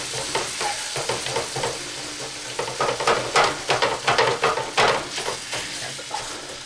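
Homemade chili meat warming in a pot is broken up and stirred, a run of rapid scraping and tapping strokes over a low sizzle, close by and without talk.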